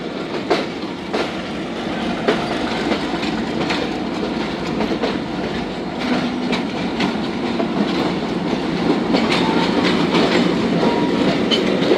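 A locomotive, numbered 8318, shunts a rake of train cars toward the washing line, close by and loud: a continuous heavy rumble with rhythmic clickety-clack of wheels over rail joints throughout.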